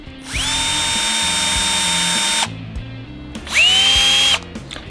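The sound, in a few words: Bosch GSB 120LI cordless drill running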